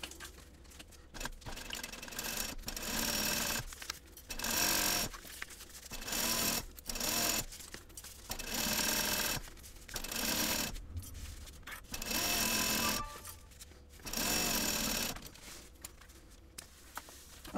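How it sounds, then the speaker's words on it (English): Sewing machine stitching a travel bag from the lining side, running close by in repeated bursts of steady, rapid needle chatter, each lasting about a second, separated by short pauses and light handling noises. "this way, I'm going to sew from my lining side up."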